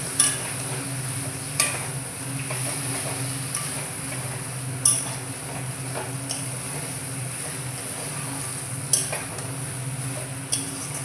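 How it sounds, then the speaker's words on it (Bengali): Chicken is stir-fried in a pan with a soft continuous sizzle, punctuated every second or two by sharp scrapes and knocks of a spatula against the metal. "এবার চিকেনটাকে ভালো করে কষিয়ে নেব।"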